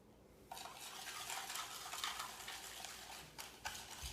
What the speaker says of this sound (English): you should beat about 100 grams of sugar into the 4 egg yolks